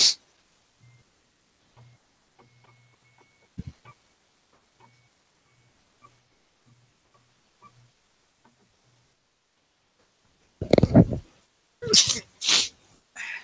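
A single sharp human sneeze bursts out near the end in a quiet room, followed by a couple of short loud noises and faint soft sounds earlier.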